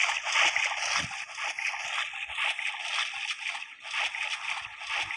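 Splashing and sloshing of water as a character climbs out onto shore in a battle royale shooter, a steady broadband wash of watery movement lasting several seconds, fairly loud and continuous with no voices.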